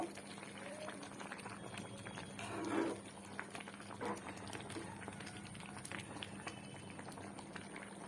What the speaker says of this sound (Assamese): শাকখিনি প্ৰায় উতল আহি গৈছে, লাহে লাহে ধুনীয়াকৈ উতলিছে